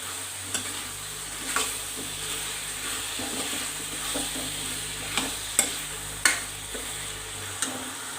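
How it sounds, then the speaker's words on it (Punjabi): Potatoes and peas fry in masala in a pan with a soft steady sizzle, while a spoon stirs and scrapes in several sharp clinks and knocks, close up with no talk. "ਆਲੂ ਮਟਰ ਨੂੰ ਆਪਾਂ ਮਸਾਲੇ ਦੇ ਵਿੱਚ 2 ਮਿੰਟ ਵਾਸਤੇ ਭੁੰਨ ਲੈਣੇ ਆ"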